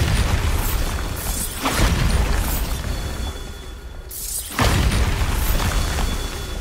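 Bombarda explosion spells in the Hogwarts Legacy video game: two heavy booming blasts a few seconds apart over a dense, loud rumbling bed, close and powerful, with no talk.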